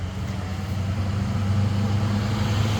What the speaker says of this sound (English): Sorry guys, there's cars.